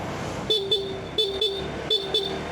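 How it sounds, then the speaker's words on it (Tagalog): A 2026 Honda Giorno+ scooter sounds its horn on a curve: three loud, close pairs of short, bright toots, evenly spaced and with no voices. "Busina check tayo dito sa may curve."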